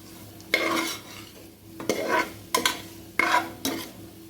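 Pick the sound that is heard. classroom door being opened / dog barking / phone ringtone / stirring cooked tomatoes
stirring cooked tomatoes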